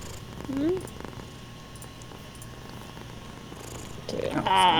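Happy pet cat purring, a soft continuous rumbling purr close to the microphone, while a person's voice is also present.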